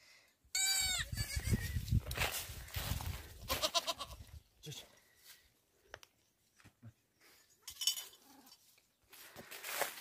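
Young sheep and goats, seven or eight kids and lambs shut inside a farm shed, bleat loudly and repeatedly up close, with shorter, fainter calls following in between.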